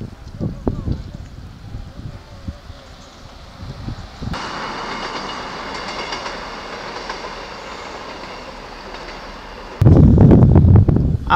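Train at Aberarch station on the Wales coastal path, a loud steady rail rumble with clickety wheel noise and some squeal after a few seconds of wind-buffeted quiet, then a sharp surge of wind noise near the end, with a voice talking at the start.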